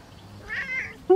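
A pet cat gives a short meow with a rising, tonal cry at mid-pitch, followed by a brief louder onset at the end, close to the listener and with no speech over it.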